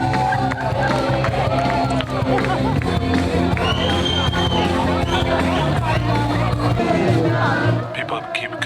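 A dense crowd at a lively nighttime Lisbon street party cheers and shouts, with whoops and babble close around and loud throughout, easing slightly near the end.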